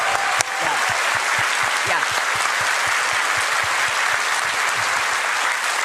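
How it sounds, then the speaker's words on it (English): Sustained, dense applause from a large convention crowd at PAX East 2025, steady and loud throughout with scattered claps standing out. "Let's give them a round of applause."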